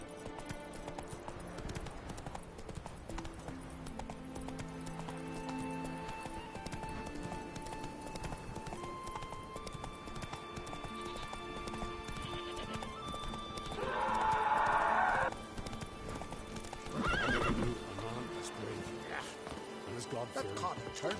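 Hooves clip-clop steadily as the horse Roach gallops in The Witcher 3 on Skellige, with a neigh partway through and game dialogue spoken over it.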